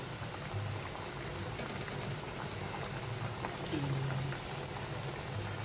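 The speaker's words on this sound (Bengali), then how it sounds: "ভাজতেছি, এখন একটা একটা করে দিচ্ছি।" Mung bean paste pitha frying in a generous amount of oil, a steady bubbling sizzle with a faint low hum, even and moderately loud throughout.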